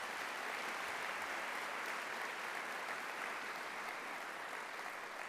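Audience applause at a university convocation at Cal Poly, a broad, sustained wash of clapping from a large crowd, heard at a distance and fairly faint, with no talk over it.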